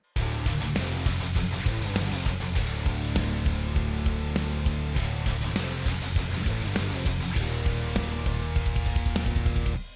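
A dense, heavily distorted electric guitar riff chugs in a steady rhythm with full band backing, loud and continuous throughout.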